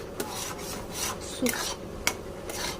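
Chhana and milk being stirred in a pan while making sweets at home, a spoon scraping and rasping against the pan bottom in a steady rhythm with a few sharper scrapes, close and fairly quiet.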